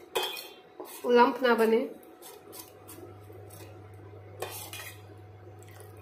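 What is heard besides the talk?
stirring ragi porridge in a pot over low flame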